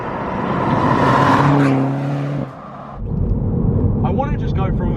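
A remapped Mini Cooper S engine revs loud and close, its rising tone climbing for about two seconds before dropping off at a gear change, then a rougher, noisier drone as the car pulls on.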